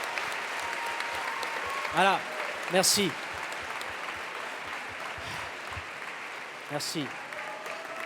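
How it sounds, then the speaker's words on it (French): An audience at the Séries Mania 2026 closing ceremony applauds the high-school award winners, with a soft, continuous patter of clapping under a presenter's brief remarks. "On peut applaudir les lycéens"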